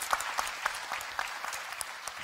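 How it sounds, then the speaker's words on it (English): An audience applauds a speaker named Maya at a live-streamed event, with scattered, fairly faint claps that keep going steadily from beginning to end. "Give her a round of applause, please."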